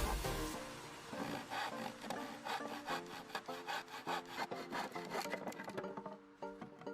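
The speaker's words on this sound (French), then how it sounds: "Sciez une planche un peu plus large que votre allée de jardin et les pierres de bordure." Hand saw cutting a wooden board, sized a little wider than a garden path and its edging stones, for a natural stone path. Steady, rhythmic back-and-forth strokes, close and loud, with no talking.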